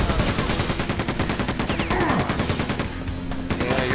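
Rapid, continuous turret fire from the Quake 2 Ground Zero expansion hammers away in dense repeating bursts, loud and close, with whining projectile sweeps cutting through the barrage near the end.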